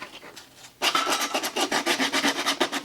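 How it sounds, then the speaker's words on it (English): Rough scalloped ends of a wooden rolling pin display being smoothed by hand with a sheet of sandpaper: a quiet lead-in, then steady rhythmic rasping strokes, close and fairly loud, with no talk. "We're sanding the rough edges of the scallops on each end."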